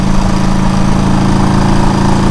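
A 1972 Honda CB350 motorcycle engine running steadily, a loud, close, continuous low throb with a rapid, even pulse and no pauses.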